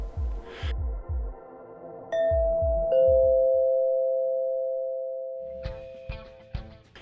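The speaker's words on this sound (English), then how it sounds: "We begin with the premise that an unknown visitor rang the doorbell." A two-tone ding-dong doorbell chime rings out clearly, its second tone sustaining and slowly fading, framed by soft knocking or tapping thuds before and after.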